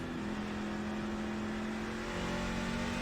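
A race truck in the iRacing Truck Series at Watkins Glen brakes hard and downshifts, its engine note dropping with a sustained droning hum and shifting pitch, steady and fairly close with no talk.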